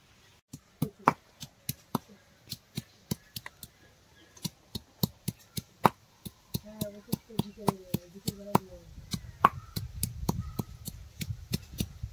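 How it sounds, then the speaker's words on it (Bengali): Ginger, garlic, cumin, coriander and dried chili are ground together with a crisp series of sharp knocks, about two a second. Faint talk sits underneath, and a rougher scraping builds toward the end. "এবার আমি আদা রসুন আর জিরে ধনে আর শুকনো লঙ্কা একসঙ্গে আমি সব বেটে নেবো।"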